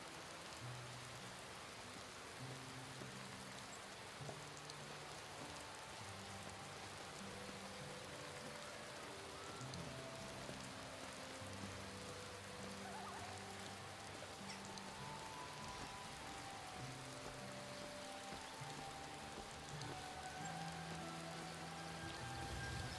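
Steady rain falling in the Skyrim video game world, a continuous soft wash of patter with faint low tones of background game music underneath, no talking.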